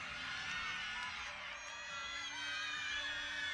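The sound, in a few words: crowd cheering for gymnast at meet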